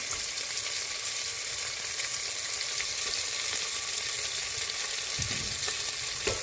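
Small peeled onions sautéing in a pan for a beef bone curry, a steady bright sizzle throughout with occasional soft scrapes of stirring near the end.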